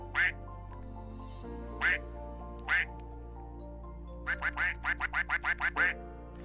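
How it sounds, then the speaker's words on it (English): A squeaky toy duck quacks with short, bright honks: three spaced squeezes, then a quick run of about nine in a row, over a steady low hum and with no talking. "It only quacks once"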